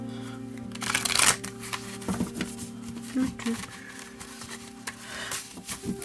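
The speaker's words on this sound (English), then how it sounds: "Just to get all the shuffling out of the way." Tarot cards are shuffled close by in quick riffling bursts, with soft slaps and scrapes, while a steady hum sits underneath.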